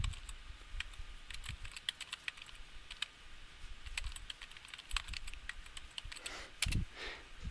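Steady typing on a computer keyboard while entering text into PowerPoint 2010: quick uneven key clicks with a few louder keystrokes, close and fairly quiet, no voices.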